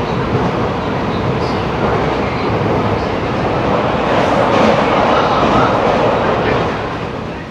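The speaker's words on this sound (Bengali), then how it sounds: "দেখো ট্রেন কিন্তু একদম টপ স্পিড 110-এ ছুটছে।" A loud, steady roar of an AC local train rushing along at about 110 km/h between Bongaon and Sealdah, dense broadband rumble and rattle with no pauses, easing slightly at the end.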